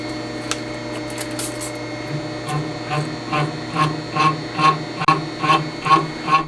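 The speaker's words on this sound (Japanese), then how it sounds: "ブレードの当たりが強かったのか盛大にビビってます。" A cutting tool machines the cam tunnel of a Honda Monkey engine being converted to four cylinders, its blade chattering loudly. A steady machine whine carries a regular, pulsing rasp that grows stronger toward the end.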